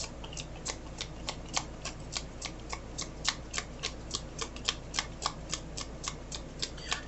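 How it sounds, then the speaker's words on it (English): A deck of cards is shuffled in a steady run of crisp riffling bursts, close and fairly quiet, with no voices. "I'm gonna do one more shuffle"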